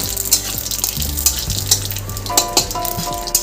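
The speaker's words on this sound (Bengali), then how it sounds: "এক চামচের মতো রাঁধুনির ফোড়ন দিয়ে দিলাম" Radhuni seeds and bay leaf tempering in hot oil in a kadai for shukto, a steady close sizzle with crackling pops and a few metal utensil clinks, no voices.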